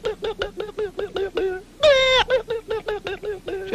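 A cartoon ostrich from the 1961 Alvin Show gives a rapid series of nasal, honking calls, repeated in a steady rhythm with one longer, louder squawk in the middle.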